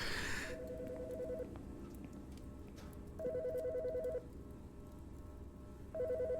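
Telephone in Autopsy Simulator rings in three evenly spaced electronic trills, each a bright warbling burst about a second long, set over a quiet low background hum, with no talk.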